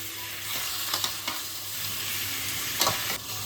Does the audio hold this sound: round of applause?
no